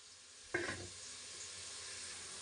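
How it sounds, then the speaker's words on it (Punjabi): Cooking oil heating in a pan for tomato chutney gives a sudden burst of sizzle and crackle that quickly settles into a steady, soft hiss with no voices. "ਤੇਲ ਆਪਣਾ ਮਠੀਰਿਆ ਹੋਇਆ ਆਪਾਂ ਗਰਮ ਕਰ ਲੈਣੇ ਆ ਇਹਨੂੰ"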